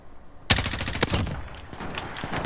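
A quick burst of automatic gunfire in Call of Duty: Modern Warfare, several sharp close shots fired in fast succession after a brief quiet moment.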